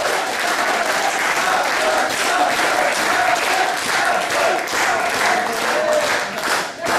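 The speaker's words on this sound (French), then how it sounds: "je crois qu'on peut lui adresser un tonnerre d'applaudissements" Thunderous audience applause at a political speech in Levallois rolls on continuously, loud and dense, with crowd voices mixed in and a brief dip near the end.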